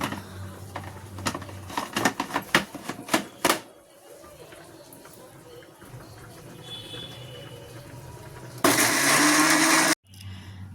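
A kitchen blender grinds garlic in a loud, steady burst lasting about a second near the end, after a stretch of clattering and tapping kitchen noise.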